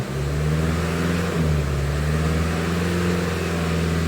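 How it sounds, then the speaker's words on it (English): A Range Rover Evoque with a cracked DPF at 37K miles idles and is revved gently during mobile diagnosis, a steady close engine drone that rises briefly and settles. "Rev her up a little bit, let's see if we can get any."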